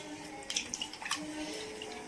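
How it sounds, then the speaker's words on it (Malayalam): Squeezed tamarind water poured into a pan of fried ingredients for puliyinchi curry, a faint liquid splash and dribble with a few soft drips, fairly quiet. "ഇനി ഇതിനകത്തേക്ക് നമുക്ക് പുളി പിഴിഞ്ഞത് ഒഴിച്ചു കൊടുക്കാം കേട്ടോ."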